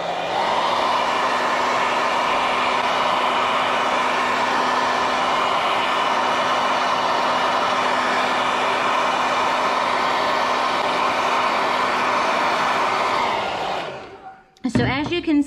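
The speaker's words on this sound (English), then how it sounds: "Now I'm going to take the hairdryer." A hair dryer heating adhesive vinyl on a textured surface blows steadily at close range with a constant whooshing hum, then clicks off near the end, leaving brief handling noises.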